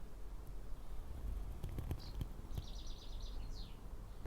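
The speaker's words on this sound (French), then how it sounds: "d'être entouré de nature et d'entendre les oiseaux" Birds chirp faintly outdoors in a quiet natural setting, a few short high calls and a trilling phrase near the end rising over a soft, low background rumble with scattered clicks.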